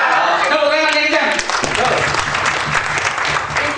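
An audience at a 2016 event in Pekanbaru breaks into loud, dense clapping that swells after a moment and carries on steadily, with a voice speaking over the start of the applause.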